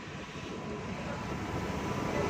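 A 1996 Suzuki Xe car with an EFI engine idles at about 1100 RPM before warming up, giving a steady, even low rumble throughout with no talking.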